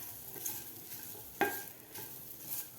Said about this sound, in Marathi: आता कांदासुद्धा आपल्याला चांगला 2 ते 3 मिनिट परतून घ्यायचा आहे खालच्या मसाल्यामध्ये